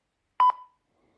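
A single short electronic voicemail beep sounds once on a phone line, then quickly fades into silence.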